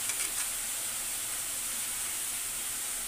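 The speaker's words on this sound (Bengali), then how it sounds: "এই দেখে ঝোলটা ফুটে গেছে" Meat curry gravy bubbling and sizzling in a pan, a steady close hiss with a few faint pops at the start, no voices.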